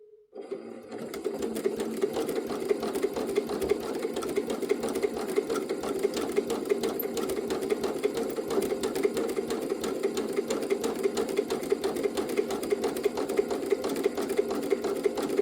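A sewing machine doing free motion quilting on a scrappy heart, starting after a short silence and then running in a steady, rapid stitching chatter that continues alone to the end.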